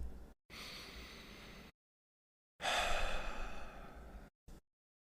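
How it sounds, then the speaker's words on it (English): Deep breaths during a guided breathing exercise: two long, close, audible exhalations with a brief intake between, separated by silence. "Take a few more deep breaths."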